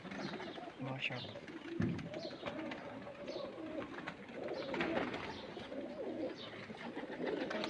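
Pigeons give low, soft coos at the edge of hearing, mixed with faint chirps and general outdoor noise while voices talk nearby.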